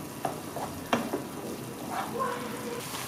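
Ground meat kofta being stirred together with vegetables in a hot pan, a continuous sizzle broken by several sharp scraping strokes of a utensil, close and fairly loud.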